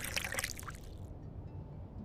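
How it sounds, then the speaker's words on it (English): A drink pours from a bottle into a glass, a brief close trickle and splash for under a second that cuts off into quiet room tone. "grabs the bottle, pours you a serving, and then pours himself one"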